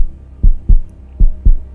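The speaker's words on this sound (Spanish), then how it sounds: "Cada latido retumbaba dentro de su cabeza, como golpes contra una puerta." A loud heartbeat pounds in two pairs of deep, booming thumps, lub-dub then a pause and lub-dub again, close and alone over a faint low hum.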